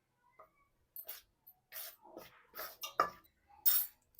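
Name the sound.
spoon mixing hot oil into flour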